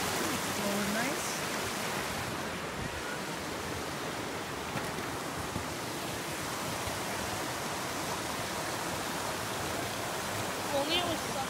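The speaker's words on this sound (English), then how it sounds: "And the river down below." A river flowing below a hiking trail on the Little River Trail, heard as a dense, steady rushing wash of water from a distance, continuous and even, with faint voices and small sounds scattered over it.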